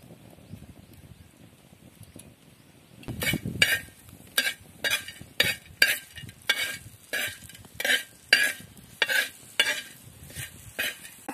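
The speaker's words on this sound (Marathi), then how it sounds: "तर तव्यावरती आम्ही आता आधी तळून घेणार आहोत" Coriander seeds and bay leaves fry in oil in a pan, a quiet sizzle for the first few seconds, then a regular series of scraping, clinking stirs against the pan, close and clear with no voices.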